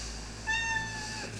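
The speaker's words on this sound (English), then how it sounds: "Oh, Lila, what are you meowing at?" A pet cat meows once in a short, clear call indoors, close to the listener, with a quiet room hum around it and no talk.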